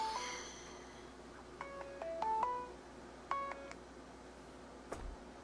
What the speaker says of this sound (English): Ignoring my phone.